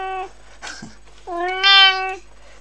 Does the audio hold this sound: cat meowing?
yes